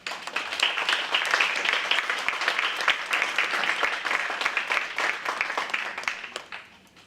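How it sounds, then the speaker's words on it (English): Audience at a university suicide-prevention event applauds its panel with sustained, fairly distant clapping that holds steady and then tapers off toward the end. "I want to applaud our panel."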